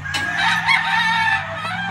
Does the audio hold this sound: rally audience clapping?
no